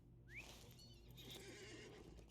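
A horse whinnies in The Lord of the Rings Online as a rider mounts up, a rising neigh followed by faint clip-clop hoofbeats, moderately near and fairly quiet overall.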